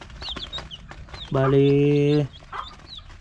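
Chickens in a coop, a hen's sustained loud cry standing out amid scattered soft clucks and chirps close by, with a brief spoken word.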